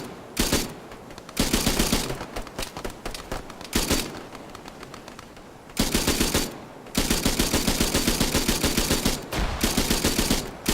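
Bursts of automatic gunfire in a Vietnam-era military simulation game, long rapid volleys broken by short pauses, loud and close, with no talking.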